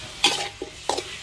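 Squid with chili and garlic is stir-fried in a pan, heard as two short, close bursts of scraping and sizzling from a spatula moving through the food.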